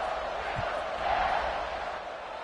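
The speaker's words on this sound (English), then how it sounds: "this crowd is buzzing after that last score" Crowd at a football stadium, kickoff approaching after a score, making a steady, dense roar and buzz that swells slightly in the middle and stays loud throughout with no clear talk on top.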